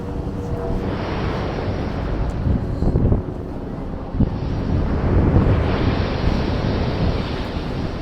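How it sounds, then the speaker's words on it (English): Ocean waves crashing against a rocky shoreline at Muizenberg, Cape Town, with strong wind buffeting the microphone, a continuous loud roar of surf and gusts and no voices. "The waves crash against the rocks, creating a symphony of sound that's both powerful and soothing."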